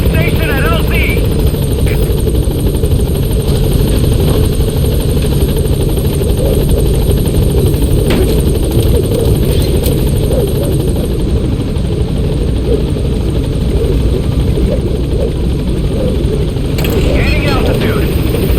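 A support helicopter in Metal Gear Solid V arrives at a landing zone, its loud continuous rotor roar and engine drone filling the whole stretch, with radio voice chatter occasionally heard over it.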